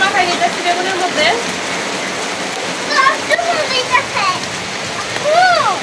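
Heavy rain pours steadily outdoors in a village setting, a loud dense wash of hiss and splatter throughout. A person talks over it at moments.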